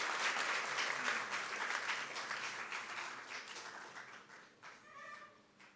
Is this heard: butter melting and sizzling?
no